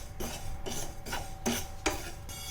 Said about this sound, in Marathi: त्यासाठी मी इथे एक पॅन गरम केला आहे. त्याच्यात हे 1 चमचा तीळ आहेत. तीळ आपण भाजून घेऊया.